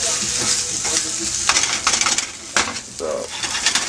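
Raw potatoes fry in a pan for corned beef hash, giving a steady close sizzle broken by scraping and clattering as they are stirred and moved around.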